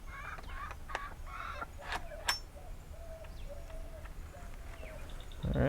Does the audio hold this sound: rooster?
yes